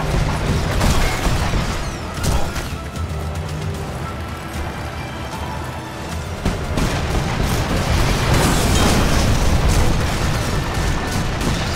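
Sniper Elite 4 video game combat around a tank: a loud, dense wash of rumbling mechanical noise and booming impacts, continuous for the whole stretch with heavy low-end, no clear speech.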